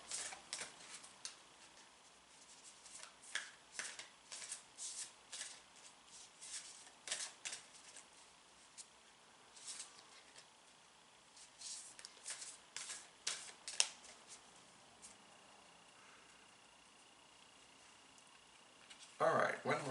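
Tarot cards are shuffled by hand in quick, soft riffling bursts during a psychic reading, faint and intermittent, with a voice speaking over parts of it.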